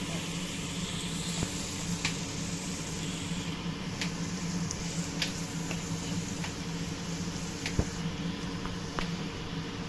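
Potatoes and cashew nuts frying in oil for paneer biryani, a steady soft sizzle with faint crackles and occasional clicks throughout, no talk over it.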